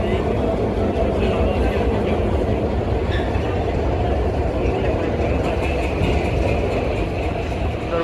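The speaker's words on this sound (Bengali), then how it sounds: "প্রোপেলারের যে থ্রাস্টের মাধ্যমে কিন্তু বোঝা যাচ্ছে যে কেমন ইঞ্জিন" The Sundarban 12 passenger launch's engine and propeller thrust give a steady, loud, dense mechanical rumble with constant churning, unbroken throughout as the vessel pulls away from Barishal.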